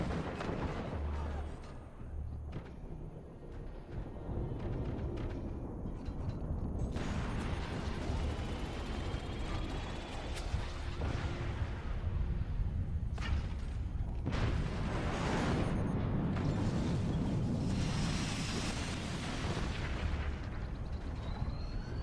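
Howitzer artillery fire in a video game, heard as a continuous barrage of loud, rumbling explosions and bursts that builds in intensity toward the end, with faint voices beneath.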